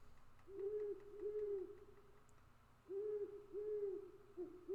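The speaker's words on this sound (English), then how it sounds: "Those owls are wilding out." Owls hoot in a repeated series of soft, rounded calls over a low steady background hum, several hoots arriving in pairs with short pauses between.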